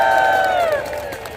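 A crowd cheers at a march in London, with a loud burst of voices and whoops close by that slowly fades over about a second and a half.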